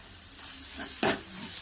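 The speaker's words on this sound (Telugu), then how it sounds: "ఇది పచ్చివాసన పోయే వరకు ఫ్రై చేసుకోవాలి. ఒక 2 మినిట్స్ ఫ్రై చేసుకుని సరిపోతుంది." Two tablespoons of ginger garlic paste fry with softened tomatoes in a pan, a quiet low sizzle with one brief louder scrape of stirring midway, no voices.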